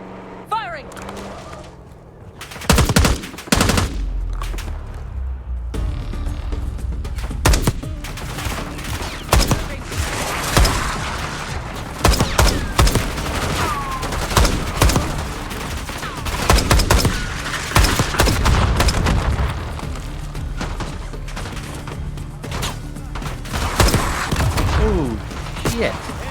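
Sustained gunfire in the video game Call of Duty: Black Ops 6, near and loud, a fusillade of rapid shots and bursts running almost continuously after a brief quiet opening, with voices talking over the shooting.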